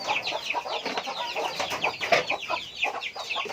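Chickens cluck close by in a busy, continuous stream of short, overlapping calls.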